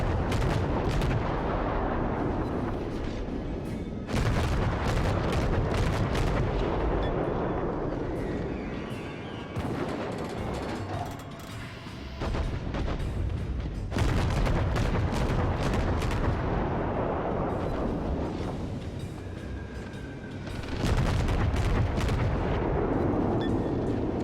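Heavy naval artillery from World of Warships battleship turrets booms in dense, loud salvos with rumbling broadband blasts and brief lulls, continuing throughout without talk.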